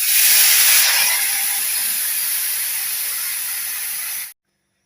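Tamarind juice poured into a hot tempering for a bitter gourd gojju gives a loud burst of sizzling that settles into a steady hiss for about four seconds, then cuts off to silence.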